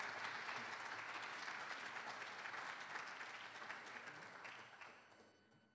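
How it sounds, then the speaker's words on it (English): A conference audience applauds at the 2006 NMC Summer Conference closing plenary, a dense wash of many hands clapping at low volume that thins and fades away toward the end. "Another round of applause for his great job last night."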